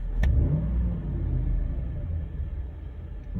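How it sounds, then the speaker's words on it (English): A 2010 Jeep Grand Cherokee 5.7 Hemi V8 gives a quick throttle blip on stock setup: a sharp rev rises at the start and settles into a low, steady idle rumble, close and alone. "Blip the throttle."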